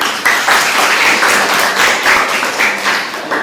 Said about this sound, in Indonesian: Pakai tepuk tangan